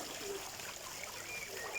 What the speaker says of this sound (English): I'm going to turn it on and show you the outlets